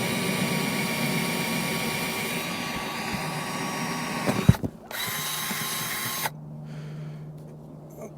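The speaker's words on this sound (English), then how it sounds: "So I've got my hole saw attachment." Power drill driving a hole saw through an RV roof, a steady grinding whine that runs for several seconds, briefly stops, resumes, then cuts off near the end.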